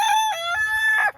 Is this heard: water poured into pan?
no